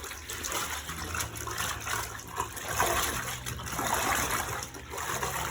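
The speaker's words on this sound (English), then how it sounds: "really give it a deep wash. You can squeeze it and press it" Denim being hand washed in detergent water, the fabric squeezed and pressed so water sloshes and trickles in uneven, continuous surges close by, with no voices.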